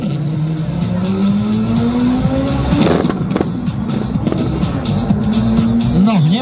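Historic race car in class S5 on the Slovakia Ring circuit, engine loud and close with a rising and falling pitch as it shifts gears and passes, constant throughout.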